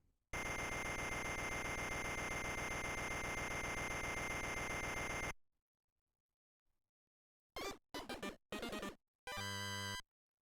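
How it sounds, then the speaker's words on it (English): An alarm clock rings in the 1998 video game Wario Land II: a loud, continuous harsh electronic buzzing for about five seconds, then silence, then several short bursts of chiptune-style game sounds. "Story 1, turn off the alarm clock."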